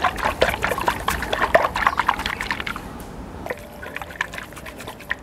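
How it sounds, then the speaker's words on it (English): Coconut water sloshing inside a whole fresh coconut as it is shaken, giving a rapid run of close liquid splashes and knocks that thin out into quieter, scattered sloshing. "That's the coconut water inside."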